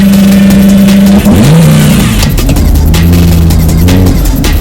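A powerful sports car engine revs up and settles, loud and close, with a steady droning tone shifting in pitch as the throttle rises and falls.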